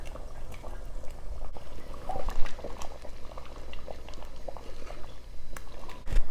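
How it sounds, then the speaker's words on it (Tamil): A pot of okra and raw mango sambar at a steady boil, with continuous bubbling and soft popping, close and alone. "இப்போ பாருங்கள், சாம்பார் நல்லா கொதிக்குது"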